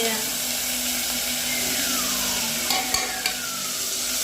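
A Gujarati mixed vegetable curry with drumstick, toor and chana dal, curry leaves and tomato sizzles in a pan while being stirred, giving a steady hiss with a few clinks of the utensil against the pan.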